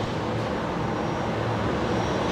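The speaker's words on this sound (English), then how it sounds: "The 787 heading along taxiway Yankee there" A Boeing 787 airliner taxis along a taxiway at Brisbane Airport, its engines giving a steady, broad, fairly loud roar with no pauses or voices.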